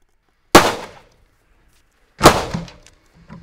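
Gunshots fired at a target in a bullet ricochet test: two loud, sharp close blasts about 1.7 seconds apart, each with a short decaying tail, then a faint thud after the second.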